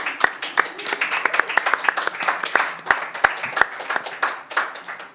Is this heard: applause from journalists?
yes